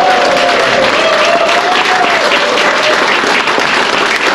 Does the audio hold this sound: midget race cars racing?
no